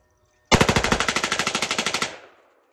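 A rifle fitted with a super safety fires one rapid burst of about seventeen or eighteen shots, emptying the magazine, loud and close, then quickly falls silent.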